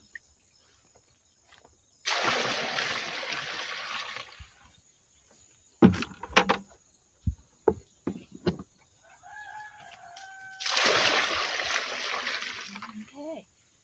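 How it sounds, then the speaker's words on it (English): Water runs into a bucket during outdoor animal chores in two steady rushing bursts, with a rooster crowing and hens clucking nearby between them. "I'm going to get this water filled up and keep moving"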